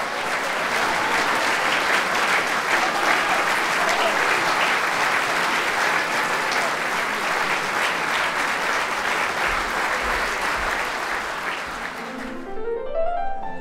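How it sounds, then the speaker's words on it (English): A festival audience at Musica Mundi 2019 gives thunderous applause, a long, dense, uniform roar of clapping that stays loud for about twelve seconds before cutting away abruptly to a few soft tonal notes. "thunderous applause"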